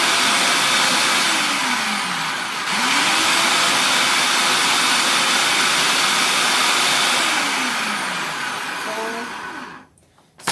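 A kitchen blender pulses fresh garden tomatoes into puree, its loud motor whine running steadily in bursts, with pitch sweeps as it speeds up and slows, then cutting off near the end.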